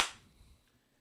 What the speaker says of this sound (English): This is the clap test.